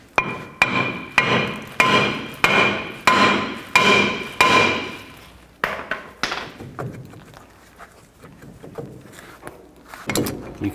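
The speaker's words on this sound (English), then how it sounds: "If it's stuck on there, you can take a hammer and hit in these locations." Hammer blows strike a stuck rear brake rotor on a 1999-2007 Chevy Silverado 2500, a rapid series of about ten sharp metallic clanks with ringing tone, then scattered softer knocks and taps.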